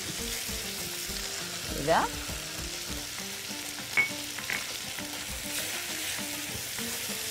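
Chicken liver frying in a pan, a constant close sizzle with a couple of louder scraping stirs and clatters; a brief word of speech is heard.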